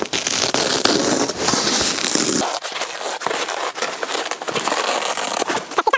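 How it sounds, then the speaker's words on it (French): Bed base being pulled out in a Hymer camper van, giving a loud, dense crackling and rattling of slats and frame that runs throughout, with a sharper scraping burst in the first seconds. "On tire le sommier comme ça, et là, ben voilà."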